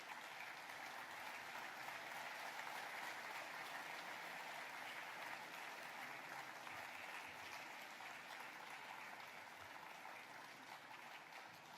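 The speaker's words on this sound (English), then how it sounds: "Please join me in welcoming our distinguished guests with a warm round of applause." A large audience in a hall applauds as distinguished guests enter at the opening session of a bank's annual meeting, a faint, distant, sustained wash of clapping that holds steady and slowly tapers.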